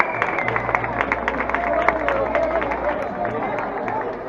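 Applause and crowd noise for the second-place finisher at a 7K road race in Meliana, moderate scattered clapping and cheering under a steady hum, with a voice over it.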